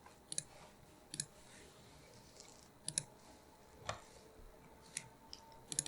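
A computer mouse clicks sharply about seven times at irregular intervals, faint and close over a quiet hum.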